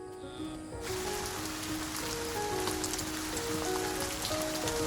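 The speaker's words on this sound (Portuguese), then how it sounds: "As chuvas estão agora em pleno fluxo e a paisagem completa sua transformação." Rain falls steadily on the Liuwa Plains in Africa during the wet season, a dense, even patter of drops close by that swells slightly after the first second and continues without pause.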